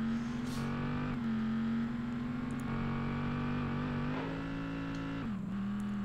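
A race car launches and revs in the PS1 game Vanishing Point, with a steady, loud engine drone that shifts slightly in pitch and holds throughout with no talk.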